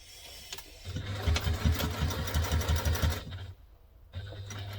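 A home sewing machine stitches seams on a crossbody bag in several rapid bursts, its needle thumping in a steady fast rhythm, pausing and starting again, close and loud with motor hum between runs.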